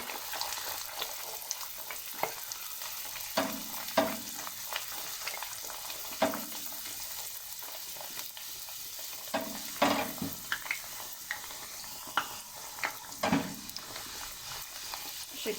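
Çiğ börek made with yufka frying in hot oil: a steady, bright sizzle with occasional soft bubbling surges and light clatter, close and continuous.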